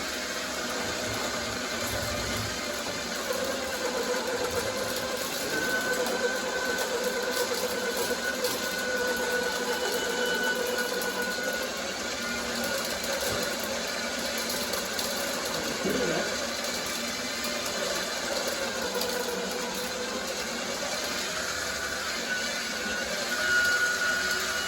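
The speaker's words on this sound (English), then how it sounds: "What's the winch doing at the front?" A winch in a workshop runs with a steady mechanical whir and hum that holds evenly for the whole stretch, with a faint high whine over it and no talking.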